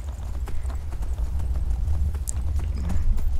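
Horse hooves clip-clop steadily in the Skyrim video game, with the horse wearing armor from a mod, a loud close rhythmic trot of hoofbeats running throughout with no speech.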